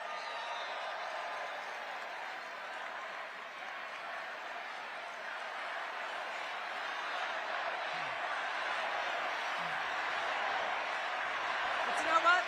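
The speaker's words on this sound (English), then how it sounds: "Give them a round of applause." An audience at a political rally gives a sustained round of applause: dense, even clapping that swells slightly near the end, with a few voices in the crowd.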